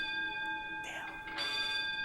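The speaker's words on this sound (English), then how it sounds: "that's the bells." School bells ring at Beaufort High School, South Carolina, with sustained, layered tones, a couple of brief noisy bursts cutting through, all fairly faint against a low background.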